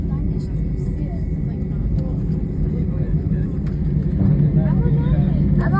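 Cabin rumble fills a British Airways airliner during an emergency landing in Bordeaux, France, a loud, steady low engine and airflow drone under a person talking close by.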